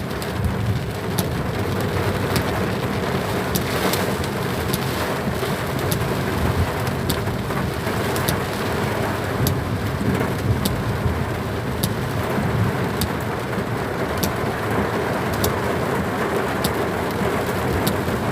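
Heavy rain with large drops pounds steadily on a car during a dark drive, a dense, loud, continuous roar with faint distant rumbles, no talk.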